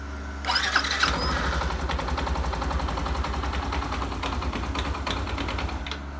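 A Yamaha Nmax 125 scooter bored out to 180cc fires up after about a second, then holds a steady, slightly uneven idle close by with a rough mid-pitched engine drone.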